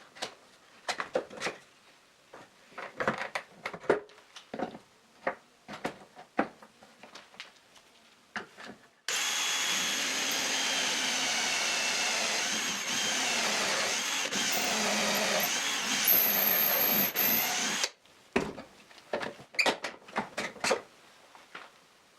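A power drill bores holes in wooden dowels, whining steadily for about nine seconds and bracketed by scattered clicks and knocks of handling and setup before and after.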